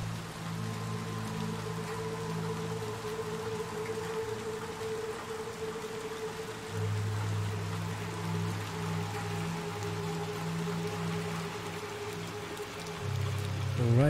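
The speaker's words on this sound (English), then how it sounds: "it's raining" Steady rain falls in the video game Little Nightmares II, a soft continuous hiss beneath a low droning hum that swells midway and near the end, with no talking.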